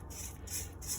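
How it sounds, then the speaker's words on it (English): A rubber spatula scrapes dry blueberry muffin ingredients around a mixing bowl, giving a soft, steady rasping rub in a few repeated strokes, close and fairly quiet. "we're gonna need really our scraper, a rubber spatula, and we're going to scrape that down"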